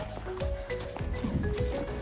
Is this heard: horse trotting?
yes